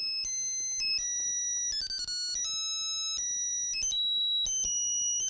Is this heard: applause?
no